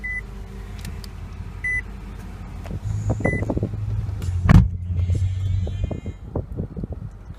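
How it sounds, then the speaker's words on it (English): A 2015 Nissan Altima S engine starts by push button, a chime and starter whir followed by the engine catching and settling into a low, steady idle close by, with a couple of faint beeps earlier. "This one has push button start. Just put your foot on the brake."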